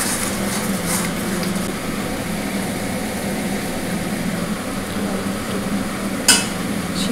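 A mash of banana and ridge gourd peel is stirred as it fries in a pan, giving a continuous soft scraping and sizzling at close range with a single sharper clink near the end.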